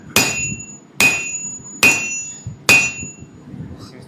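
Four loud hammer blows ring out against metal while a small dagger blade is forged, each sharp strike leaving a bright lingering ring, spaced just under a second apart with no talk.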